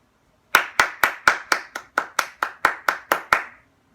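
One person claps hands alone, thirteen crisp, close, evenly spaced claps at a steady quick pace, then silence.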